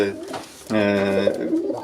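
Pigeons coo in a loft belonging to a breeder of show and racing pigeons, a mix of low throaty calls rising clearly after a quieter start, with a voice talking faintly underneath.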